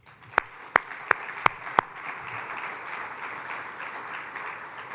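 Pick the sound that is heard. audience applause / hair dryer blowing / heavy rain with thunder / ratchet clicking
audience applause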